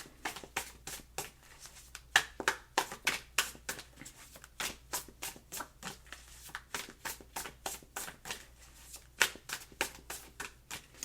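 Tarot cards are shuffled close by in steady repeated riffles and soft slaps, a crisp papery rhythm continuing throughout with no talking.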